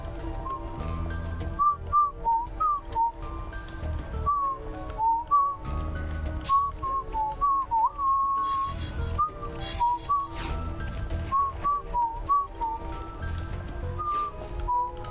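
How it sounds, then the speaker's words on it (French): Someone whistles a tune close to a microphone, a string of short, bright melodic phrases over steady background music from a game, with no talk. "le micro il détecte pas quand je siffle"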